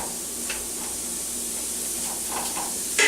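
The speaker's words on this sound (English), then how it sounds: "I just got my burner on high here because we're basically frying at this point" A continuous bright sizzle and hiss of sausage frying in hot fat in a pot on a high burner for gumbo, with faint stirring and pops near the end.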